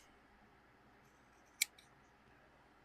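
Scissors snipping once through the fabric of a handmade quilted crow, a single sharp close cut with a faint second click, otherwise a quiet room.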